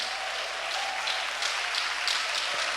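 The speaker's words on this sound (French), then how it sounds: "Applaudissez le Seigneur Jésus." Church congregation applauding the Lord during an apostle's sermon, a steady dense wash of many hands clapping in a reverberant hall, fairly loud and continuous throughout with no voices on top.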